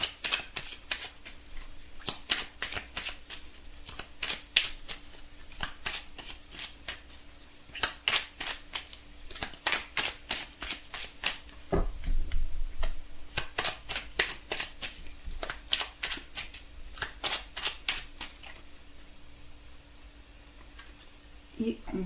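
Tarot cards are shuffled by hand in repeated short riffling bursts with brief pauses, close and soft, with a quiet voice now and then.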